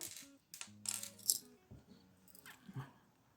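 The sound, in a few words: picking up a small piece of jewelry chain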